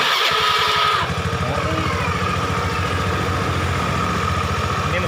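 Honda Beat carburetor motorcycle engine cranking on the electric starter, then catching and settling into a steady, rapid idle that stays close and fairly loud throughout.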